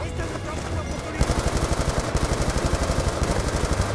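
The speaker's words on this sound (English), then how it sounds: "Oh my god, they keep throwing grenades." Call of Duty Black Ops 2 combat: after a muffled, busy start, a sudden burst opens into a steady, rapid stream of automatic gunfire that stays loud and close to the end.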